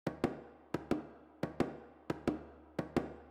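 Hand thumb percussion from an orchestral-style music track plays on its own, with sharp paired hits repeating in a steady pattern. Each hit rings briefly and decays, and nothing else plays.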